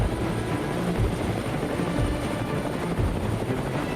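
Helicopter rotor thumping loud and close during an aerial hog hunt in Texas, a steady continuous drone with rhythmic low beating and no voices.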